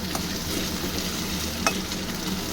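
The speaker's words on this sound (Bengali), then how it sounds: "আলুটা ভাজা হচ্ছে" A constant close sizzle of potatoes frying in oil, with a spatula scraping and stirring now and then.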